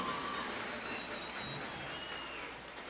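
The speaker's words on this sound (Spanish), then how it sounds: "Fuerte el aplauso para los 12 clasificados en la final regional de la provincia de Los Santos" Audience applause at a provincial regional final event in Los Santos, honoring twelve qualifiers: a faint, steady wash of distant clapping that holds evenly for the whole stretch.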